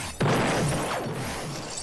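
Objects smash and break in a destruction simulator video game, a sudden loud crash followed by a continuous dense wash of debris noise, close and full throughout.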